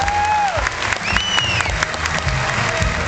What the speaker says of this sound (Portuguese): Cadê os aplausos para ele?